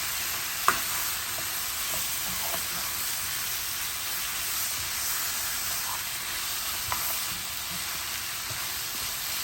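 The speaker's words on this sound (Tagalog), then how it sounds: "i-sear muna natin ito ng about 5 minutes" Pork spare ribs sear in a hot pan, giving a steady, moderate sizzle and hiss that fills the clip with no one speaking, broken by a couple of faint pops.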